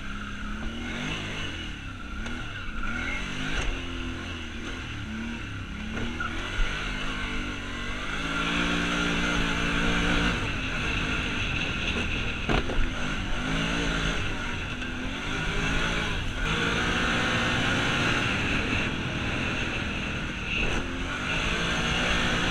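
Can-Am Outlander 570 ATV fitted with a CVTech primary clutch accelerating hard toward about 7,000 RPM, a steady loud engine roar with rising pitch through most of the run, recorded on board.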